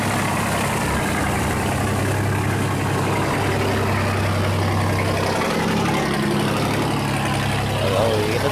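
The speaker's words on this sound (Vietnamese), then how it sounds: "Chiếc ghe này sẽ tranh thủ vượt cống nha." A boat's heavy engine chugs steadily and loudly up close as the vessel pushes through a sluice gate alongside barges, a constant low rumble with churning water noise throughout.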